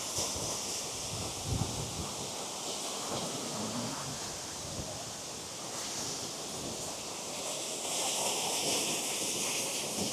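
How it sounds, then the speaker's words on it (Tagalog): Strong wind buffets the microphone beside Sampaloc Falls in Siniloan, Laguna, a steady broadband roar with gusts swelling near the end and no talking. "Grabe, sobrang lakas ng hangin."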